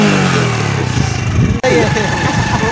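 A motorcycle engine runs loud and close with rough revving, under a voice speaking, and drops out for a brief moment before carrying on.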